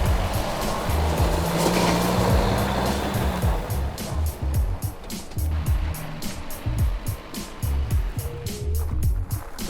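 A Mahindra ROXOR UTV crawls down a small hill in four-wheel-drive low, its engine giving a steady low drone with uneven bumps and rattles from the terrain, fairly close and without talk.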